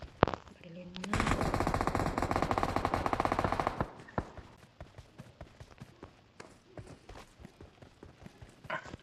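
Automatic gunfire from the PUBG Mobile battle royale game, a loud dense burst of rapid shots lasting a few seconds, followed by scattered sharper single shots and clicks over quieter game ambience.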